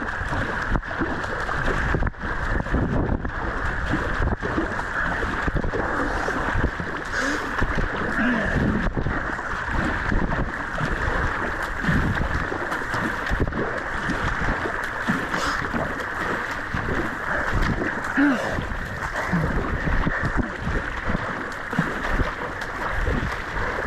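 Strong wind roars steadily over open water during a kayak speed run comparing a Dagger Vanguard and a Pyranha 12R, a loud, continuous rushing buffet that fills the whole stretch with no break.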